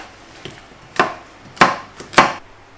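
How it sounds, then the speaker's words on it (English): Leek, carrots and potatoes chopped with a knife on a cutting board for a slow cooker chicken pot pie, giving three sharp, loud knife strikes about half a second apart, each with fainter taps between, close by and with no talk. "I'll just keep on chopping these up"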